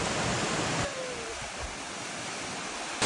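A river stream in Hulu Langat flows in a steady, full rush of water, loud at first and then slightly softer, with no talk over it.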